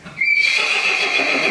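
A 16-year-old half Arabian, half Hackney horse gives a loud, close whinny that starts sharply and holds steady as a sustained high call, with no talk over it.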